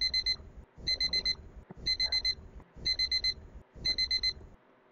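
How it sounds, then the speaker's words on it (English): Timer alarm going off in repeated bursts of rapid high beeps, five clusters in quick succession with short pauses between them, fairly faint over a low background. "I think the timer is already done. Okay, it's time."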